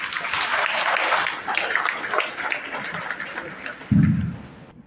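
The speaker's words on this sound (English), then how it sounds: "A warm applause, please" A kindergarten moving-up ceremony audience gives a warm round of applause, with steady clapping and some voices mixed in. The clapping thins toward the end, then a low thump sounds and the room goes quiet.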